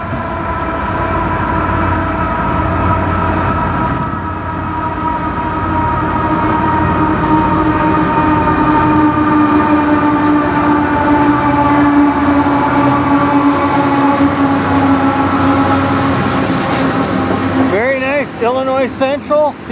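A CN manifest freight train led by an Illinois Central heritage locomotive rumbles past on the main line, a loud continuous roar of engines and rolling cars with a horn-like drone, ending in a brief clatter.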